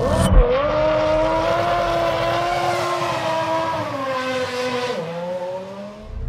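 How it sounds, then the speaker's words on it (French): Formula 1 race cars with V10 engines screaming at high revs, a sustained piercing multi-toned wail that shifts pitch as gears change and cars pass, loud and continuous with no talk. "Le son du V10 en Formule 1, il m'a marqué à vie."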